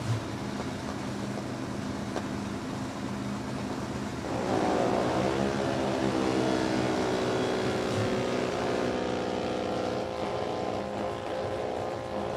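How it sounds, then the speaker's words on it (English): An NHRA drag racing car at Thunder Valley Motorsports Park idles steadily, then swells into louder throttle blips from about four seconds on. The engine stays prominent with faint crowd ambience beneath. "A little throttle work there, you hear it"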